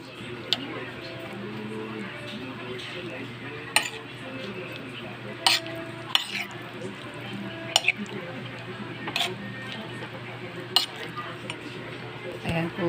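A spoon clinks and scrapes against a bowl while stirring a ground meat mixture with carrots, onion and garlic for tortang giniling, light irregular taps under a soft background hum.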